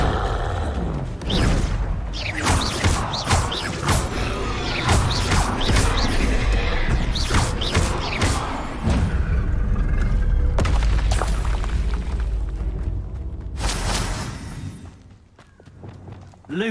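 A Confringo fire spell in Hogwarts Legacy bursting in repeated loud booms and crashes, a dense run of explosive impacts that fades near the end before a final hit.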